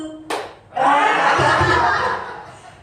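Participants in a clap game during a teacher training session produce a sharp single clap, then a group burst of claps and excited shouting that swells and holds loud before slowly fading.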